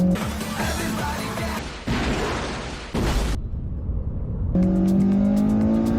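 A Honda car driven hard on a winding mountain road, the engine revving high and dropping through gear changes with abrupt cuts and a brief quiet gap, loud and close.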